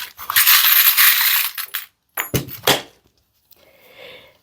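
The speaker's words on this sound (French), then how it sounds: "je vais tirer quelques breloques" Small charms drawn for a divination reading rattle and clink in a long jangling burst, followed by a few sharp taps and a soft fading shimmer, with no voices.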